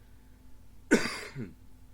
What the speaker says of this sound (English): I will be clearing my throat and coughing a bit.